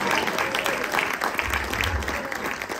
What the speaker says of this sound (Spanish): acá aplaude a alguien que se sintió reflejado